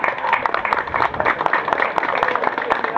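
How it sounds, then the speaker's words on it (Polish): Hands clapping in an outdoor festival crowd in Poland as a village head is welcomed, with sharp, irregular claps close by over a busy background of voices. "Duże brawa."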